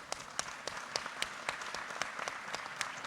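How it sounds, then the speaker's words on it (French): Applause from a round-table audience on farriery, distinct claps from a modest crowd sounding close and fairly loud, continuing evenly for a few seconds with no talk over it. "On peut t'applaudir."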